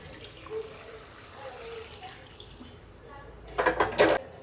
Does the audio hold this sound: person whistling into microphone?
no